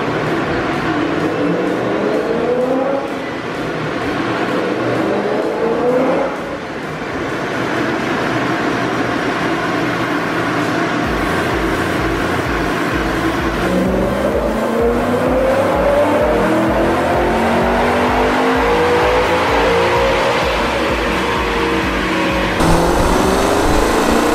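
A supercharged BMW M5 engine runs on a dyno through repeated pulls, its loud roar rising and sweeping upward in pitch with supercharger whine, dropping back briefly and climbing again, close and continuous.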